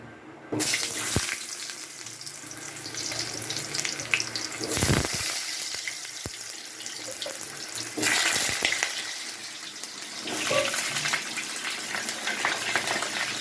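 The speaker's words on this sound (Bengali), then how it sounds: "তেলটা আমার গরম হয়ে গেছে, এবারে আমি আলুগুলো ছেড়ে দেবো।" Potatoes slid into hot oil for a chicken curry fry with a loud, close, watery sizzle that surges in bursts as pieces go in and are moved, hissing steadily in between.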